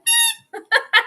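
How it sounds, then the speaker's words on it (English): A dog's star-shaped squeaky toy gives one long, high squeak followed by three shorter squeaks, close and loud, with no voices. "we hear a squeaky toy in the background"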